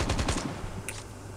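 Rapid automatic weapon fire in the Call of Duty Mobile battle royale game, a quick burst of about five close, sharp shots followed by a brief metallic click, no talking.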